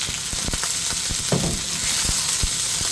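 Native chicken dropping into a hot pot for a Filipino chicken soup, with steady close sizzling and frying crackle throughout and a few sharp pops and stirring clatters.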